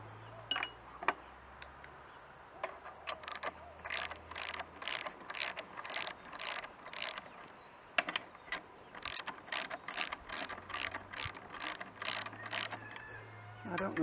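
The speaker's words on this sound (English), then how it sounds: "Take off the nut and unwind the compressor." A homemade spring compressor being unwound from the stiff rear suspension of a Honda CT110 motorcycle, producing steady bursts of ratcheting clicks close up, repeated in two long runs with a short pause between.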